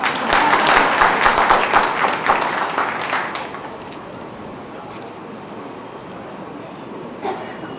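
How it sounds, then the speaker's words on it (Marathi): Audience applause at a Marathi political gathering bursts loudly at first, then fades over a few seconds into quiet room tone with a faint late clap. "मी नुसतं म्हटलं म्हणून तुम्ही टाळ्या वाजवल्या"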